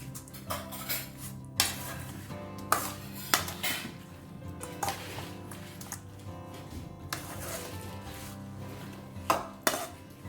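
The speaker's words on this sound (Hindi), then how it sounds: "अब इसे ना हल्के से मिक्स करना है इस तरह से।" A spoon clinks and scrapes steadily against a bowl as a mango mixture is stirred, with repeated metallic taps over a soft, continuous rustle.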